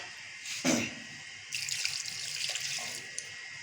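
Water pours and splashes into a pot in a steady stream, preceded by a brief clatter, fairly close, with no talking.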